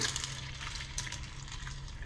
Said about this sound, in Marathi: आता मी इथं पाणी ओतते बघा